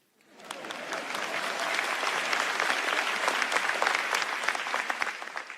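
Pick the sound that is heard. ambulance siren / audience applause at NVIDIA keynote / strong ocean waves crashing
audience applause at NVIDIA keynote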